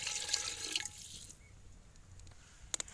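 Water pours from a container into a cooking pot for a dhaba-style beef karahi, a faint splashing trickle that tapers off into quiet, followed by a couple of small clinks.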